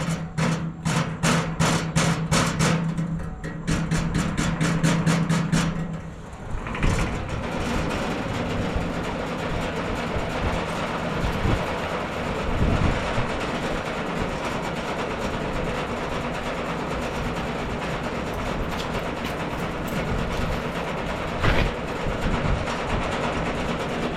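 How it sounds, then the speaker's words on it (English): A salt spreader sander with a spinner assembly runs steadily. It opens with a fast series of rhythmic clicks over a few seconds, then settles into a continuous mechanical rumble and whir close by, with occasional knocks and no talking. "let me throw this sander on real quick and make sure everything here is"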